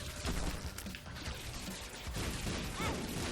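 Explosions in The Binding of Isaac form a dense, continuous rumble of overlapping blasts and crashes, loud and sustained throughout with no speech.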